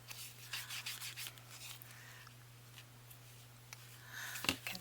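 The paper edges of a handmade patchwork journal being inked, heard as soft intermittent rubbing and dabbing strokes close by, faint and quiet with a low steady hum underneath and no talking.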